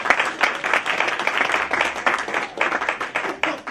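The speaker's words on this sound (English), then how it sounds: "While we're clapping for them" A church congregation applauds a young couple, steady dense clapping from many hands filling the room without pause, close and fairly loud.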